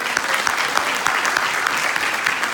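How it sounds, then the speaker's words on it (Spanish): A church congregation applauds at a Spanish-language service in Kilgore, Texas, a dense, steady burst of many hands clapping at once, loud and close throughout with no talking. "denle un fuerte aplauso al Señor"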